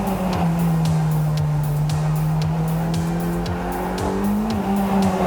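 A Mercedes 190E runs laps on a race track, its engine droning loud and close from inside with rising and falling pitch through gear changes, with brief tire scrubs and clicks throughout.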